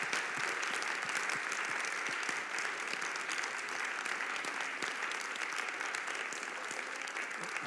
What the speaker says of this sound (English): I will give a huge applause to Professor Appiah for this very inspiring conference.